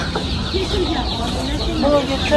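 Roosters and hens cluck and call at a busy poultry market, short calls close by mixed with crowd noise and people talking.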